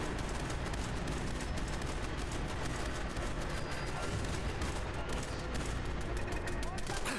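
Continuous gunfire in a Fallout 4 fight between Raiders and Synths, dense crackling shots and bursts running throughout under and around casual talk between players.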